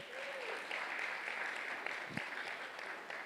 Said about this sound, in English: please give Mark Ibarra Garza a round of applause